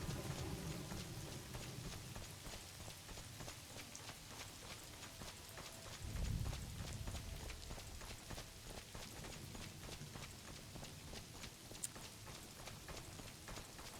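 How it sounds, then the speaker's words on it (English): Rain falls steadily on the town of Anvil, a dense, even patter of drops that carries on throughout, with a brief heavier thump partway through. "The rain in Anvil."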